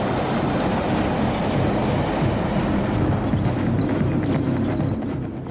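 A train carries a large telescope mirror across the country, its steady rumble and rail clatter loud and continuous, with faint wheel squeals rising near the end.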